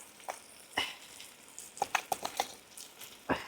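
Spices crackle and sizzle in hot oil, tempering for a Tamil sundakkai (turkey berry) pickle, with a burst of sharp pops and spatters in the middle and a few isolated crackles on either side.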